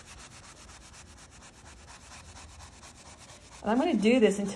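A brush scrubs varnish back and forth over an oil painting on canvas, making a soft, continuous rasping close by, until a voice starts speaking at the end.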